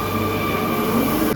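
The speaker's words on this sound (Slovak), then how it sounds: "Hľadáme metro, musíme ísť tam na metro." A Barcelona metro train rolls past with a steady loud rumble and a sustained high whine of wheels on the rails, with no talk over it.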